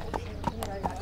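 A horse's hooves trot briskly on hard ground while its gait is checked for an intermittent front-leg lameness, giving about four evenly spaced clip-clops in a second, with faint voices underneath.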